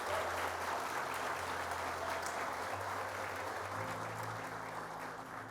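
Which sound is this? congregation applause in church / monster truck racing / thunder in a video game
congregation applause in church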